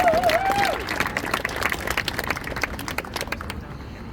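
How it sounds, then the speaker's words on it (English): Applause and clapping from a protest crowd gathered outdoors for speeches, a steady dense patter that rolls on for about three and a half seconds before thinning out, with a faint trailing whistle near the start. "Everybody give them a warm round of applause."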